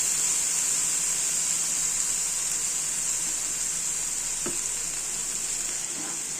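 Chicken being stirred with soy sauce and oyster sauce in a hot pan for Korean chicken bao, a steady close sizzle and frying hiss throughout with a few faint scrapes of stirring.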